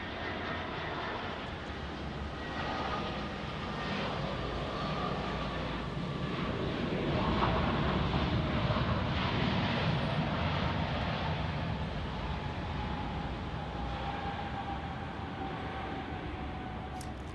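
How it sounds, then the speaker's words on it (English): A Delta Airbus A319 arriving from Atlanta at Dallas Love Field during thunderstorms gives a steady, broad jet engine roar that swells slightly in the middle and holds throughout. "So we've got a Delta arrival here, some Delta action on an A319 from Atlanta."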